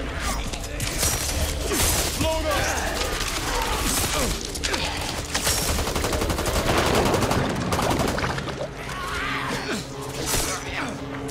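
Video game gunfire in Back 4 Blood: loud bursts of rapid automatic shots and single shots with mechanical clatter fill the whole stretch, mixed with in-game voices and shouting.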